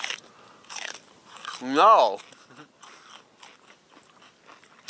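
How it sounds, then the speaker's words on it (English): Raw celery is bitten outdoors by a campfire, giving one loud, crisp crunch in the middle, with people talking quietly before and after it. "Eating some celery. Yes. Raw."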